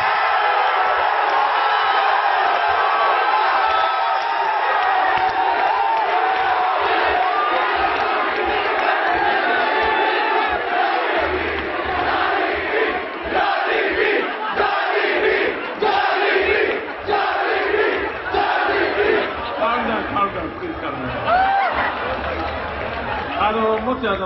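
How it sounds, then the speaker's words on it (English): A large crowd cheers and yells loudly throughout a speech at a fighting-game event, a continuous roar of whoops and shouts with voices talking over it. "The volume of the cheering was just so loud"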